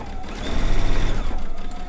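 A sewing machine stitches a quarter-inch seam on a zig zag quilt, a loud close whirring run of rapid needle strokes lasting a couple of seconds.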